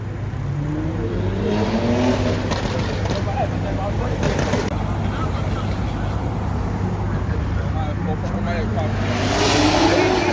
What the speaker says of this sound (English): comment down below what you think of the sound of the S58